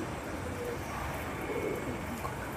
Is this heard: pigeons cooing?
yes